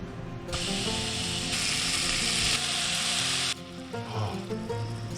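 Sausage meat for beer chili hits a hot pan and sizzles loudly and steadily, a dense close frying hiss that carries through the clip.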